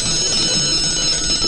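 A bell-type alarm clock rings steadily and loudly at 6:15 in the morning, its dense metallic ringing filling the whole stretch without pause.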